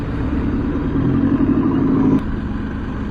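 Road traffic passing around a rider on an e-bike in the Philippines, a continuous rumbling wash of engines and tyres that swells briefly in the middle before settling back to a steady drone.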